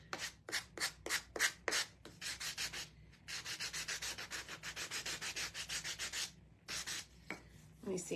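A Gator power sander works over wooden cutouts in a steady run of rubbing, scratchy strokes, each pass rising and falling in loudness, with a couple of brief pauses between bursts.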